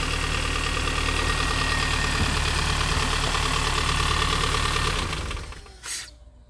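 MINI R50 car engine running at a loud, close, steady idle with a rough, even rumble, then dying away near the end with one short final burst.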